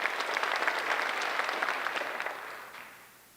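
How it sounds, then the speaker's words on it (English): A brief round of applause from the audience at a high school senior awards ceremony: moderately loud, crisp clapping that holds for about two seconds, then tapers off and fades out. "but a quick little round of applause."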